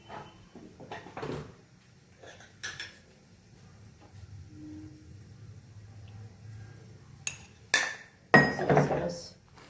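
Dal and spices being stirred together in a cooking pot, with scattered clinks and scrapes of a utensil against metal, quiet stretches between, and a louder burst of clattering near the end.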